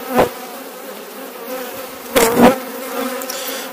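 Honeybees buzz around an open beehive during a hive inspection, a steady close insect drone with louder swells as bees pass near, no voices.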